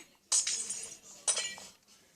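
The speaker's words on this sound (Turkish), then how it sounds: "Şimdi şu camı kıracağım şu iki camı." Glass panes shatter in the Minecraft video game, two separate crisp tinkling breaks about a second apart, each a short bright crash that fades quickly, with no talking.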